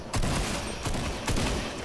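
Gunfire in the video game Fortnite, three sharp bursts of shots roughly half a second apart, each leaving a rolling tail, loud and close with no talk.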